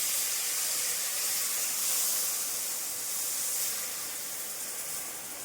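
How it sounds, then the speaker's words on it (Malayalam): Tamarind water poured into a hot pan of toasted spice powders for ginger curry, giving a loud, steady, close hiss of steam that holds for several seconds and eases slightly toward the end. "നമുക്ക് ഈ പുളി പിഴിഞ്ഞ വെള്ളം ഒഴിക്കാം കേട്ടോ"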